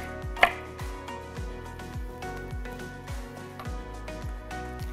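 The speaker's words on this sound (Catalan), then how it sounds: "I ara anirem tallant ja totes les verdures." A knife chops red and green peppers on a cutting board in a steady rhythm of about eight firm, close strikes. One sharper knock comes near the start, and there is no talking.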